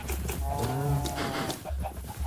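Cows lowing in the Minecraft video game, with a single drawn-out moo standing out clearly over a noisy farm background that includes faint clucking chickens.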